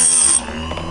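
A Harbor Freight chainsaw sharpener grinds a saw chain in a short, close burst: a bright, loud whine that cuts off partway through, leaving a quieter rough rasp behind.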